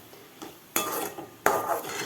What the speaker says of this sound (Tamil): இப்போ வந்து தேங்காய் துருவல் போட்டு ஒரு கிண்டிட்டு